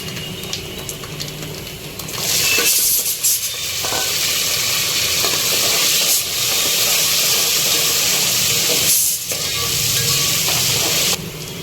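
Onion, curry leaves and green chilies fry in hot oil for a tomato bath, a steady loud sizzle and hiss that swells after a quiet start and keeps going, with faint stirring scrapes.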